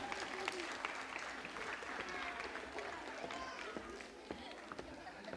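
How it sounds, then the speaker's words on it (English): Audience at a children's science presentation clapping for a young volunteer, faint, fairly even applause heard at a distance with a dull room rumble beneath. "give Noah a great big round of applause for helping out"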